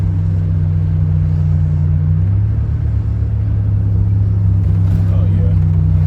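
Buick Grand National heard from inside the car as a loud, steady low engine drone with a slight rise in pitch partway through, sustained throughout without a break.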